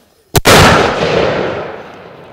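Mortar fires during South Korean army live-fire training with 60mm, 81mm or 107mm tubes: one loud, close, sharp blast followed by a long rumbling decay that fades over about two seconds, with no speech.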